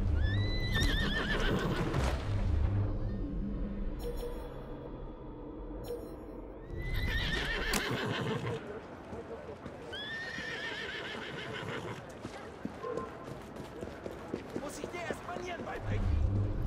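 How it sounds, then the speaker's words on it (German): Horse whinnies and clip-clopping hooves in the Assassin's Creed Syndicate video game, neighs standing out near the start and around the eight- and ten-second marks over steady hoofbeats, with game music and character voices underneath. "Wer ist ein gutes Pferdchen?"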